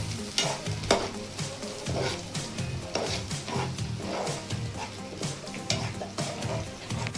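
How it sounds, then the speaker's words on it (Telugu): Paneer curry ingredients with garlic paste sizzling and frying in a pan, close and busy, with repeated scrapes and knocks of stirring over the steady crackle. "ఒక 2-3 నిమిషాలు బాగా వేయించాలి."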